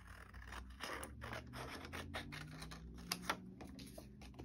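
Paper being cut by hand for a journal pocket made from a face drawing: a run of close, soft snipping and scraping strokes, with a couple of sharper clicks near the end, and no talking.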